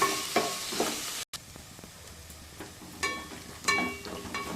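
Curry leaves and coriander sizzle in a pan for borugulu upma, a soft frying hiss broken by several sharp scraping stirs of a spoon, close and fairly quiet, with no one talking.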